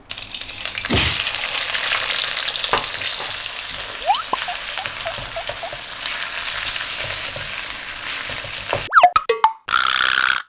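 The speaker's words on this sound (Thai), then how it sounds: "ต่อไปนี้ถึงตากุ้งละเราจะทอดเอาลงไปทอดนะ จนเกือบสุก" Shrimp frying in hot oil for Thai garlic shrimp, a loud continuous sizzle with occasional plops and clinks of pieces going in, then brief scraping clatter and a final burst of hissing after a short silence.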